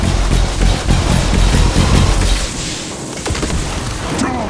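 Rapid gunfire and heavy booms from the Wild West action game Evil West, loud and dense for the first half, then thinning to scattered shots and impacts.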